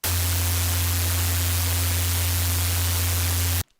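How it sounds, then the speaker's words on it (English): Synthesized noise layered over a sustained sub bass, heard as a loud, steady hiss with a deep droning hum beneath it, lasting a few seconds before cutting off abruptly. "you can hear the noise. Gets mangled by the sub."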